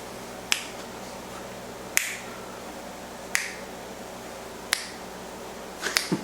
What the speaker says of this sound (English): Remember, you gotta snap your fingers for the rhythm and stuff